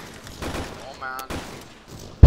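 Gunfire in the military video game Arma 3, a short burst of shots and a sharp report near the end, mixed with game noise and a player's voice.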